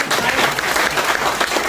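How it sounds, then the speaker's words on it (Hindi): An audience bursting into loud, dense applause at a training programme, sustained clapping from a crowd, close and full. "एक बार और जोरदार ताली होनी चाहिए।"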